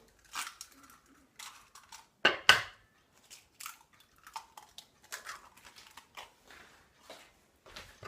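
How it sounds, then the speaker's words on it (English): Eggs are cracked into a bowl for profiteroles: a series of sharp, sparse taps and clinks of shell against the bowl rim, quiet and close, separated by brief silences. "we're going to take our eggs and we're going to crack them into a bowl"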